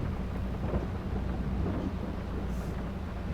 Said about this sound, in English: Right at the time when we want to do some mowing, it starts to rain.